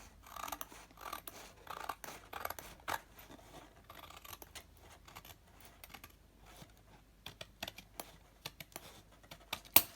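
Scissors snip through craft material while assembling a medieval-style piece, making a run of short, close, crisp cuts with a few louder snaps near the end; no one speaks.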